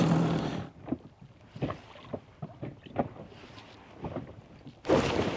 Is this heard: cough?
no